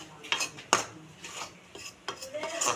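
Spoon scraping and clinking against a metal pan while chuji halwa fries on a low gas flame, several sharp scrapes and taps in an uneven rhythm, close and moderately quiet.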